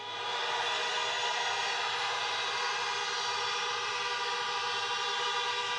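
A crowd of parked cars honks continuously at an outdoor get-out-the-vote rally in Philadelphia, Pennsylvania, the horns merging into a loud, unbroken blaring wall of sound without any voices.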